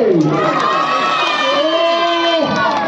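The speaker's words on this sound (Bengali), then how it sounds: "এবার জোরে হাততালি।" A crowd at a sporting club's foundation day celebration cheers and shouts loudly and continuously, voices overlapping in a dense roar with some high children's shouts; clapping is not distinct beneath the cheering.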